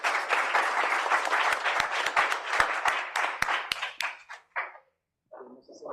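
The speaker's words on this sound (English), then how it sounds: "Big applause to the panel as well." A conference audience applauds a panel discussion on the Latin American electrical system: dense, steady clapping for about four seconds, then thinning into a few scattered claps before fading out.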